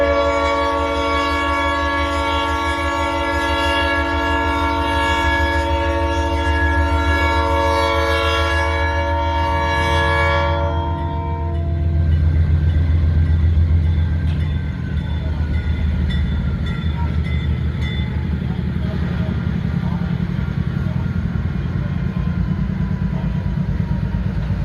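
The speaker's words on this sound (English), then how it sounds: "The arriving train caught us on the wrong side of the crossing and facing the sun." An Albany and Eastern freight train rolls up to a level crossing, its horn blaring in long sustained blasts before giving way to the steady, loud rumble and clatter of cars passing close by.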